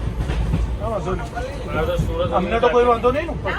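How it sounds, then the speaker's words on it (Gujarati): A train pulls into a railway station with a low rolling rumble, while people talk and chatter close by over the noise. "ભાઈ ફાઇનલી ટ્રેન આવી ગઈ"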